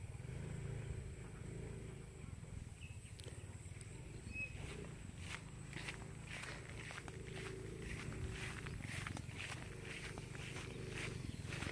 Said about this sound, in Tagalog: Nagpaandar na si Justin sa motor